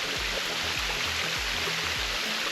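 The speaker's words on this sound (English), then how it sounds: "We made it to waterfall number 2." A waterfall on the Koko Crater hiking trail in Honolulu pours in a steady, dense rush of water, close and continuous.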